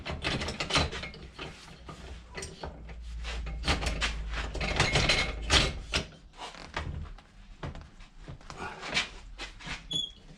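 Metal pannier rack part for a DR650 motorcycle being bent by hand in a workshop, a run of close, irregular creaks, clanks and scraping knocks with uneven rhythm, fairly loud and without talk.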